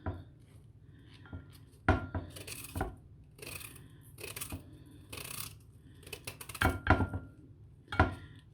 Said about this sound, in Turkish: Şimdi bunu böyle güzel ince ince doğrayacağım. Beyaz lahana ama sert olanı.